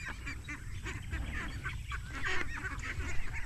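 Several domestic ducks honking and quacking repeatedly at close range, an uneven chorus of calls over a steady outdoor background.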